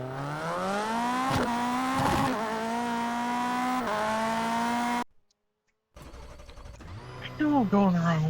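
A rally car in a racing video game, stuck on a rock in the woods while climbing Mount Washington, revs hard with a loud sustained engine drone, briefly cuts out, then rises again with sweeping pitch changes and tire noise.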